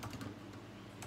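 Faint, quick keystrokes on a computer keyboard tap out a few close clicks within about a second, alone without talk.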